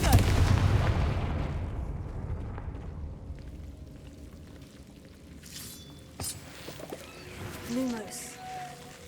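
Spell blasts and booms from the Hogwarts Legacy video game, with Confringo, a blasting spell, cast among other spells; a loud rumbling blast opens, then fades into quieter magical effects and chimes with soft game sounds.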